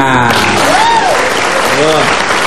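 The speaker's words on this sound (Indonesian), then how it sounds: "Oke, tepuk tangan." A studio audience claps in a loud, dense burst of applause on a television talk show, while voices call out and speak over it.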